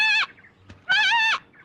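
Two loud, harmonic bleats imitated by human voices like goats, in a Telugu comedy forest scene, each drawn out with a wavering pitch and separated by a short gap.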